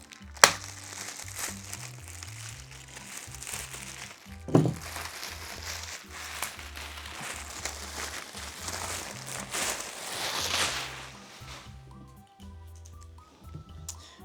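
Sticky tape being scratched and peeled off the packaging of an Elegoo Saturn 4 3D printer during unboxing, giving close crinkling and crackling with a few sharp thunks, steady across the clip with no talking.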